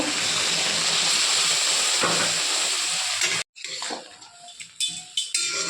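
Hot water poured over prawn masala in a pan makes a loud rushing hiss that runs for several seconds then cuts off, followed by quieter bubbling and a few spoon clinks.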